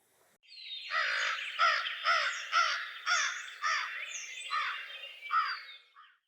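A crow caws repeatedly and loudly nearby, about nine harsh, evenly spaced calls in a steady rhythm against a quiet background.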